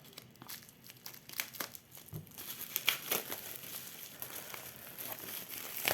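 Plastic film wrap on a box of oracle cards crinkles and crackles in close, irregular bursts as it is cut open and peeled away, without speech.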